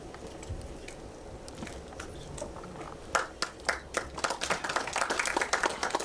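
At a song launch event, an audience gives a guest a welcoming round of applause, starting as scattered claps over a low murmur and swelling into fuller, louder clapping toward the end.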